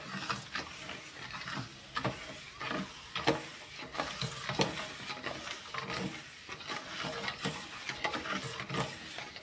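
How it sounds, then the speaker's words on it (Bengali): Sugar being stirred into mango pulp for jam, a steady series of soft scraping and sloshing strokes from a spoon working through thick, grainy fruit mash, close and fairly quiet. "এই 750 চিনিটা পুরো এই আমের মধ্যে দিয়ে দেব। এবার একটু ভালো করে মিশিয়ে নেব।"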